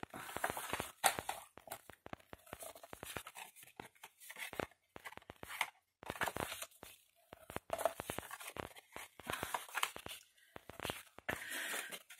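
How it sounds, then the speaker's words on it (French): Paper being folded and creased into a box, with repeated short crisp rustles and scrapes at close range, some louder bursts, and brief pauses between folds. "Vous marquez tous vos plis"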